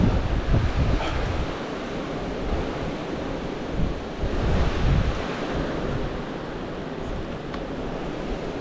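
Strong gale-force wind buffeting the microphone outdoors on an exposed hillside, a continuous loud roaring rush with heavier gusts swelling and easing throughout.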